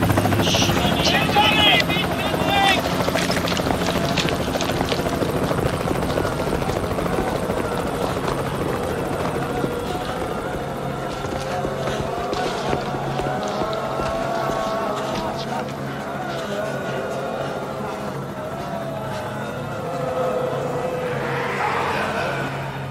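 A helicopter thunders overhead in a zombie film scene, its heavy rotor thudding and engine roar holding loud and steady throughout, with people speaking over it and scattered action noises mixed in.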